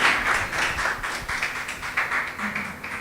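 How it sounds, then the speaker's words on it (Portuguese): A church congregation claps together in a steady rhythm, making soft, evenly spaced beats that sound fairly distant and quiet. "Louve a Ele com suas palmas"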